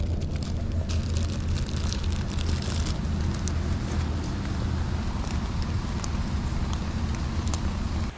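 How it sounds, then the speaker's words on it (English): Rain falls steadily during a riverbank fishing and camping trip with cooking outdoors in a rainstorm, a dense continuous hiss and patter with a deep low rumble, close and even throughout with no talking. "when I'm out in the cold and wet rain here"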